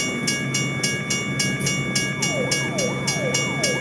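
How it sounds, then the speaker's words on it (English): A train rolls past with a steady, rhythmic clatter of wheels repeating about twice a second, plus sustained tonal hum and some descending squeals, loud and close with no talking. "I hear that train coming"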